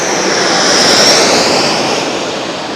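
A jet airliner passes directly overhead while landing at LAX, a loud, steady roaring engine rush with a whining high tone that swells and then slowly eases, with no talk over it.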